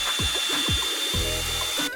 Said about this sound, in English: mixed that up with a drill attachment